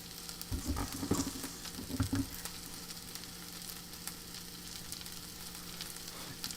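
Onions with a little sugar frying and caramelizing in a pan, a steady soft sizzle with brief bursts of stirring early on, close and moderately quiet, with no talk.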